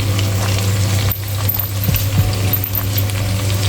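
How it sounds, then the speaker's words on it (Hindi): Coriander and ginger frying in a pan give a steady sizzling hiss, with a low hum underneath and a couple of brief metallic clinks partway through. "इसमें डाल के हम इसको भून के निकाल लेंगे"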